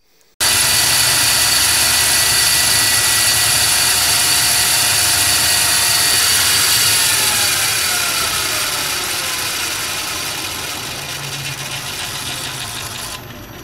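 A South Bend 9-inch lathe spins a newly made faceplate at high speed, giving a loud, steady mechanical whine with a high tonal ring that holds throughout and slowly eases slightly toward the end, with no talking.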